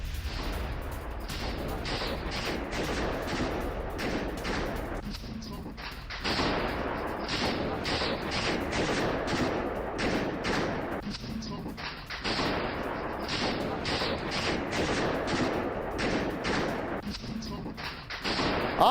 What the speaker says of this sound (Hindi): क्रॉकस हॉल में अंधाधुंध फायरिंग करते दिखे आतंकी